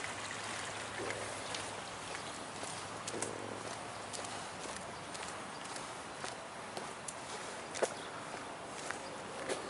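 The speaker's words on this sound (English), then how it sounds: "This is Fountain Creek." Fountain Creek, the smaller of two creeks bordering a community garden and church grounds in Florissant, flows steadily as a faint, continuous watery rush. Brief soft taps and clicks sit on top, with no talking.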